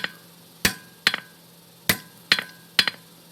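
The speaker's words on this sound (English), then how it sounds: "I'm hitting slightly on my anvil right here without hitting over there" A hammer striking hot steel on an anvil while forging a fork, six sharp ringing blows in an uneven rhythm, some with quick bounces, close and clear with no talk.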